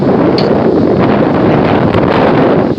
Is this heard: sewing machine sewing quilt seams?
no